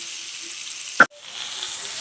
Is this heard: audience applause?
no